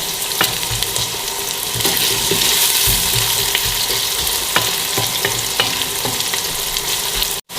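Onion frying in hot oil in a pan for a beef dish, a loud, close, continuous sizzle with occasional stirring crackles that runs unbroken until a sudden cut at the very end.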